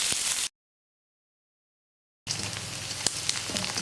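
Onions and green chillies sizzle steadily while sautéing in a pan for Tamil tempered rice. The crackling drops to silence for a couple of seconds, then resumes at a moderate level.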